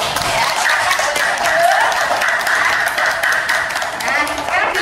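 A classroom of primary school students claps for a presenting group, with dense, steady hand clapping close by and some voices mixed in.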